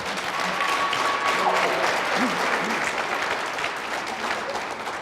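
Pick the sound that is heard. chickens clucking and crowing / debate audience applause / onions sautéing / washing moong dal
debate audience applause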